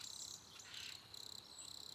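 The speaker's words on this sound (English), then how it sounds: "Do I still have the crickets?" A cricket chirping sound effect, a faint, steady pulsing trill repeating in quick bursts with nothing else heard.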